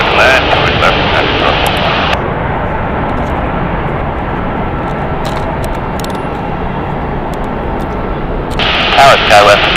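An airplane comes in to land at San Francisco International Airport, a steady broadband engine roar that holds throughout and swells again near the end, with radio chatter over it.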